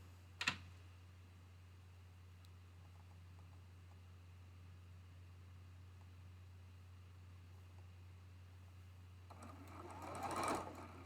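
A sewing machine stitches a quarter-inch quilt seam, a faint steady mechanical hum with a sharp click near the start and a louder burst of whirring near the end.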